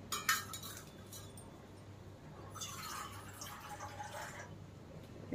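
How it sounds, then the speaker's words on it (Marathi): Half a cup of water is measured out for a vermicelli sheera in a kitchen, with faint clinks of a cup and a light pour and drip against quiet background hiss. "अर्धा कप पाणी घेऊया"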